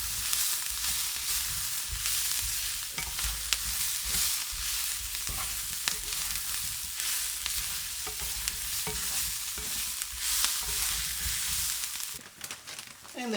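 Kumara stir-fry sizzles steadily in a hot pan while it is stirred through, with frequent scraping and clicking of the utensil over a constant frying hiss; no one speaks.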